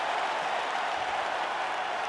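A steady, distant arena crowd cheers and applauds without a break at the end of a full-distance fight in the EA Sports UFC 5 video game.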